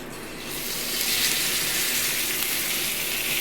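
Chicken leg pieces fry in oil on a tawa, a loud, steady hiss of sizzling that swells up after a brief quieter start and holds close and continuous.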